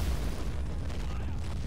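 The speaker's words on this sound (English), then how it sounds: "that damn mortar is certainly something that's helped keep them in the game" Mortar shells bursting in the war game Men of War, a dense, continuous rumble of low booms rolling together at steady loudness with no clear gaps.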